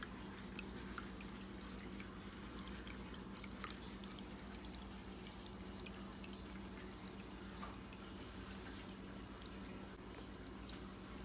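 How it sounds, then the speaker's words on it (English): A small tabletop water fountain trickles steadily and faintly, with soft drips and gentle flowing water running alone the whole time. "It's a nice little water sound to it."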